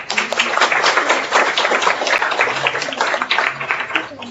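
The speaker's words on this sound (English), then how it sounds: "Finally, give the applause for the speaker and for you all" Lecture audience applauding the speaker at the close of a public university lecture, a dense, sustained wash of many hands clapping at steady strength throughout.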